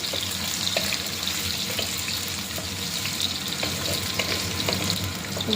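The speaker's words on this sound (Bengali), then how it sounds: "আলুটা জাস্ট একটু ভাজা ভাজা করে নেব।" Potatoes fry in a pan with a steady, close sizzle, crackling and popping continuously without pause.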